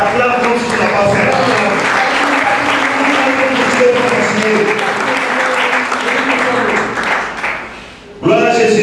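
A church congregation breaks into loud, sustained applause with cheering voices for about eight seconds, dying away briefly before another burst of clapping and crowd noise.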